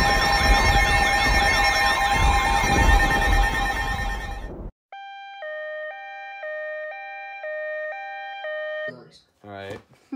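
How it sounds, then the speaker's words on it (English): A Midland 74-210 weather radio sounds a tornado warning alert. A loud, harsh wailing tone fills the first few seconds, then a steady two-pitch electronic beep alternates, close and clear, before a brief garbled burst at the end. "Tornado warning! First alert, WX-167."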